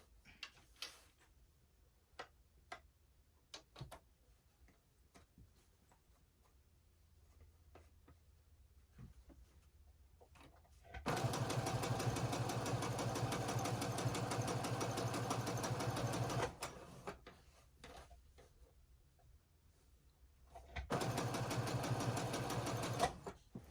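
A sewing machine stitching a mask and scrub cap runs in two long bursts of steady mechanical whirring, close and loud, after scattered quiet clicks and handling of fabric, with a brief pause between runs for a back stitch.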